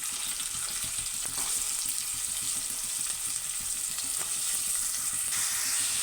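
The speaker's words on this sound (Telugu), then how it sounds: "ఉల్లిపాయ ముక్కలు వేసేసుకున్నాను." Chopped onion pieces sizzle and crackle in hot oil for a mutton curry, a dense steady frying hiss with scattered pops and occasional stirring scrapes, close and continuous with no talk.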